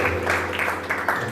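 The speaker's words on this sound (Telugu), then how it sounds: "చప్పట్లు కొట్టి దేవుని నామమున" Applause from a crowd at a church Christmas gathering: dense, continuous clapping throughout, fairly loud and close, with a faint voice mixed into the noise.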